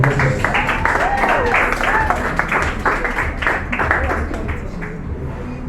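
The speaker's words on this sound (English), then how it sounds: "Please, another round of applause" Dense, loud applause fills a hall at a youth debate competition, sustained and unbroken throughout, with voices and crowd noise mixed in beneath it.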